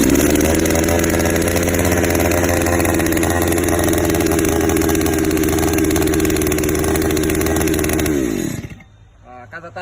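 A 63cc gasoline engine on a wheeled earth auger runs loud and close at a steady idle with a constant buzzing drone, then cuts out abruptly near the end as someone speaks over it.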